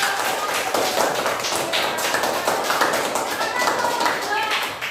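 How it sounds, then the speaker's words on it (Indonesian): Classroom group clapping for a student team after their presentation, a dense steady patter of many hands filling the whole stretch, with voices mixed in underneath. "Kita beri tepuk tangan."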